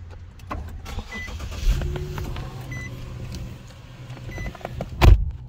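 A 2013 Infiniti G37x AWD with push-button start: a low mechanical hum runs steadily inside the cabin, a short thump comes early, and a loud abrupt burst near the end marks the engine catching.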